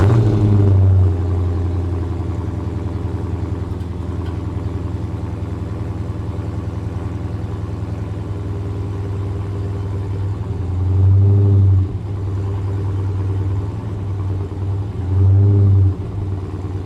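A Dodge Challenger V8 idles with a steady, deep rumble, punctuated by three short throttle blips that swell briefly louder; no voices.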